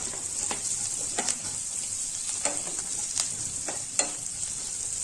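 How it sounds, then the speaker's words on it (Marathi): Cashew pieces hit a hot frying pan and sizzle in a steady, soft hiss, with a few light clicks and pops scattered through. "याच्यात मी थोडेसे काजूचे तुकडे घेतलेले टाकण्यासाठी, ते पण टाकून घेऊ आपण"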